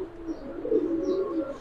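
A female Hammer pigeon at a pigeon farm gives a soft, low rolling coo, close and steady over a faint room background.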